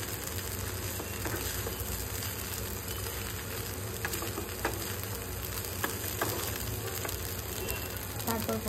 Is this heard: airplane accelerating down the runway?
no